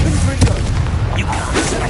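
A fiery Incendio spell bursts in Hogwarts Legacy, a loud whooshing blast with a sharp hit early on, set against dense game noise and overlapping voices.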